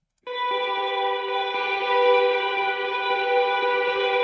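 A single electric guitar chord played through an Amplitude 5 Fender Twin Reverb amp simulation rings out and sustains evenly with a shimmering, reverberant tone, played alone.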